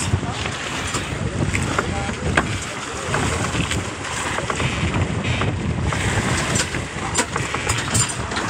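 Strong northeast monsoon wind buffets a fishing boat at sea, a loud continuous rushing roar with engine hum and water noise underneath, steady for the whole stretch.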